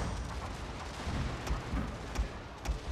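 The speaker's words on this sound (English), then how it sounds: "Hit them with that shrapnel shots" Shrapnel-shot artillery fire from a strategy battle game, heard as a dense, continuous rumble of distant booms with a few sharper cracks standing out near the end.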